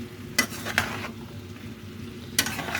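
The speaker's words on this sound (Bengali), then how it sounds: "মশলাটা দিয়ে একটু কষাবো এবারে" Chicken curry with ground spices being stirred in a pan, a soft low sizzle broken by three brief spatula scrapes against the pot.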